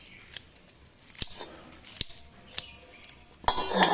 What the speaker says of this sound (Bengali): আমি এবার এই ধনে পাতাগুলো কেটে নিচ্ছি।